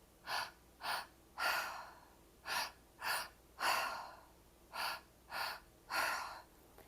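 Deep, audible breaths during a breathwork meditation, nine strong airy inhales and exhales in a steady rhythm, close and fairly quiet, with no talking.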